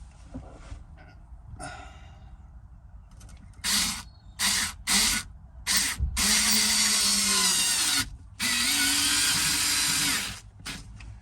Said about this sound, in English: So let's put the other two screws in.